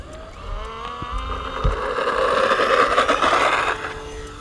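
A Tower Hobbies Cessna 400 RC airplane takes off with half flaps, its electric motor whining steadily louder over faint outdoor background noise.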